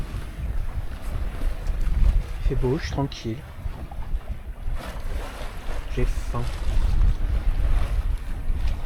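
Steady wind rushes over a sailboat beating upwind at four to five knots off northern Euboea, Greece, with wave wash and microphone buffeting throughout; someone talks briefly in two short bursts.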